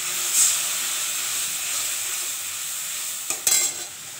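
Spice paste with turmeric and added water frying in a pan, a steady soft hiss and sizzle with a couple of brief louder bursts near the end from stirring, close up and no talk.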